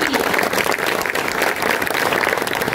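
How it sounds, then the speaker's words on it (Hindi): Gathering at a Krishna Janmashtami celebration in Damoh jail answers with a burst of hearty applause, steady dense clapping from a crowd throughout the short stretch, with faint voices underneath. "तो एक बार जोरदार तालियां उनके लिए"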